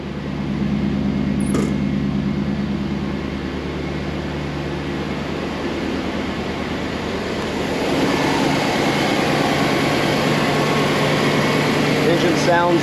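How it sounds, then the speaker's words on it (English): Air conditioning on a 1988 Camaro Z28 blows steadily, a broad airy hiss over the low hum of the idling engine, heard from inside the car and growing slightly louder toward the end. "I have the AC on right now. It's blowing ice cold."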